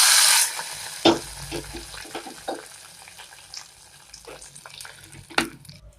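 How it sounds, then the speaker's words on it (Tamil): Mustard seeds, urad dal and curry leaves tempering in hot coconut oil, a crackling sizzle that fades into soft scattered pops and spits, close and without talk. "இப்போ தேங்காய் எண்ணெயில் கடுகு, உளுந்தம் பருப்பு, கருவேப்பிலை எல்லாத்தையும் போட்டு தாளிச்சு கொட்டிடலாம்."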